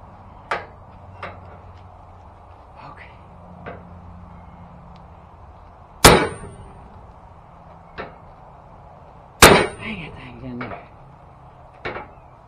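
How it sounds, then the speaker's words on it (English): Bigger hammer striking a bolt on a tractor PTO shaft outdoors, a few sparse metallic strikes with two loud sharp ringing blows among lighter taps and quiet gaps. "I'm gonna try a bigger hammer and bolt on this one."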